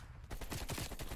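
Short burst of rapid gunfire in Call of Duty Cold War, several quick shots in a row at low level without speech.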